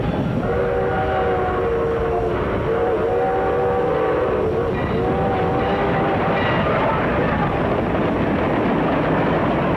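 A steam train rumbles past steadily while its whistle sounds in several long, drawn-out blasts over the continuous roar.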